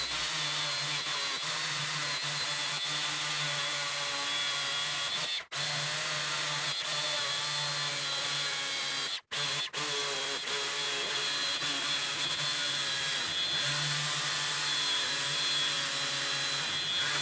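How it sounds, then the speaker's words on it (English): A battery-powered chainsaw with a dull chain and slipping clutch labors through a 25 cm thick piece of firewood, its motor whining steadily and close up, with a few brief cutouts and no talking. "As you can see, it really struggles to cut this piece of firewood that is 25 centimeters in diameter."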